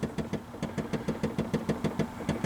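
A 1993 Chevrolet 3500 idles with a rapid, regular knocking tick from its blend door, the repeating clicks sitting close and steady over the engine's low hum.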